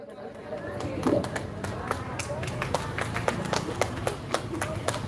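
An audience applauds for the singer at a live stage program, with scattered claps rising over a murmuring crowd and a voice throughout.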